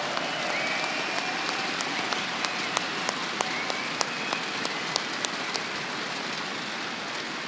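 Crowd applause at a CS:GO esports event, ESL One Cologne 2016, a steady dense wash of clapping lasting throughout with scattered sharper claps standing out.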